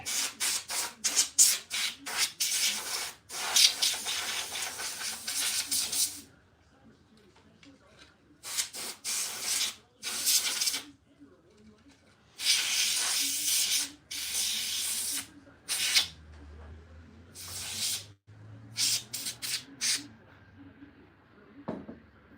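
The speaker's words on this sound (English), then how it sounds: "I'm just going to hit this with some duster off camera" A can of compressed air duster sprays an Atari cartridge in loud, hissing bursts, some short and some several seconds long, separated by quiet gaps.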